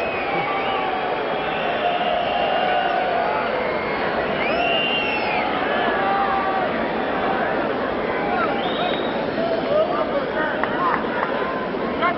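Tennis crowd at an Agassi versus Thomas Muster match, a dense murmuring hubbub of spectators reacting to a line call, with scattered calls rising from the steady broadband babble throughout.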